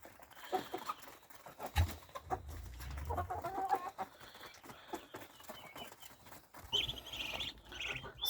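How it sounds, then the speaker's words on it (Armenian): Brahma chickens cluck softly in a coop, intermittent short calls over rustling and scattered thumps, with a few brighter chirps toward the end. "Սրանք բրամա տեսակի հավերն են"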